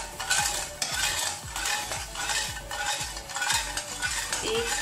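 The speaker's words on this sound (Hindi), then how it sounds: "ये देखिए, चाशनी में उबाल आ चुकी है" Sugar syrup for barfi boils in a pan over low heat, a bubbling, sizzling hiss under repeated scraping strokes of a spoon against the metal, steady and close, with no talking.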